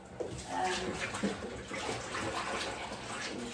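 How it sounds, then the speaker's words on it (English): Tap water runs steadily into a kitchen sink while hands are washed, a soft continuous splashing hiss at close range with small shifts as the hands move through the stream. "I'm just going to wash my hands"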